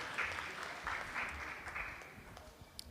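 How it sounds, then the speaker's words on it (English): Applause from a crowd, a steady wash of clapping at moderate volume lasting the whole stretch, with a few louder individual claps near the end. "Can we give a big round of applause to Krishna Fun School teachers and the kids"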